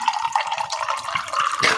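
Rogue ginger yuzu seltzer pours into a glass close up as a fizzy, bubbling liquid stream, steady for under two seconds with a brief splash at the end.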